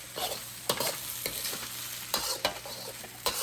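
Chicken fried rice being stirred in a hot wok with sauce, a scraping, sizzling tumble with several sharp spatula knocks against the metal over a steady background fry, close and fairly loud, no talking.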